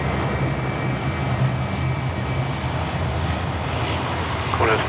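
Qantas 6 airliner arriving from Perth at Sydney Airport at night, a loud steady jet engine roar with a thin high whine, constant throughout with voices faintly under it.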